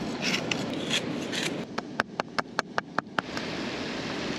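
Fresh coconut grated by hand outdoors on a tiny island, first soft rubbing scrapes, then a quick run of about ten sharp rhythmic rasping strokes before trailing off, close and fairly quiet.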